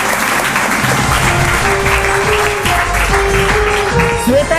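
A studio audience at a children's general-knowledge quiz show claps loudly for a young contestant. The applause is dense and steady for several seconds.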